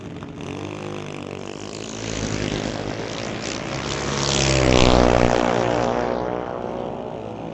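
Drag race cars roar off the line at a sunset showdown race, a loud, continuous engine roar that swells to a peak and then fades as they pass.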